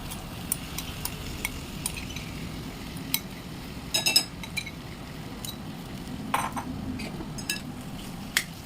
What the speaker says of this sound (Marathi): आता हे छानपैकी मिक्स करून घेऊया